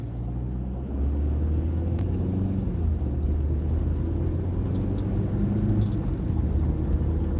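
A car drives gently on a road with a steady low engine rumble and road noise from inside the cabin, continuous and even throughout.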